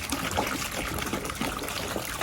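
Water trickling and splashing in a homemade solar-powered fountain set up outdoors, a steady close dribble and patter running continuously with no voices.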